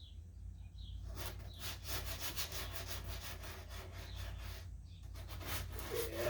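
Hand sanding of body filler on a Ford F-150 with 80-grit sandpaper, steady rapid back-and-forth rasping strokes, close and continuous with a short pause near the end.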